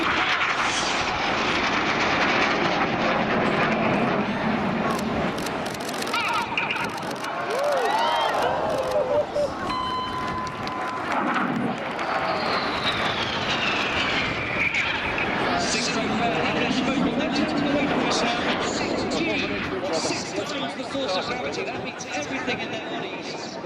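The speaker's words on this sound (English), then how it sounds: "These 4 aircraft are now closing at 850 miles an hour" RAF Red Arrows display jets fly past at an air show, four aircraft closing at speed, their roar rising and sweeping overhead under a commentator's steady talk, with a distant crowd beneath.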